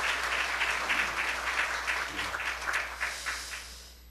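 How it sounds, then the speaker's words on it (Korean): A church congregation applauds during a worship service, a sustained patter of many hands clapping with a gentle rhythm, gradually tapering off toward the end. "함께 다시 한번 박수 주시기"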